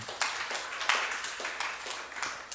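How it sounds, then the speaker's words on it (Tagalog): A church congregation claps together during a sermon, giving sharp, evenly spaced claps in a steady rhythm. The clapping is moderately loud and no one speaks over it. "Isa pong malakas na palakpak sa Panginoon."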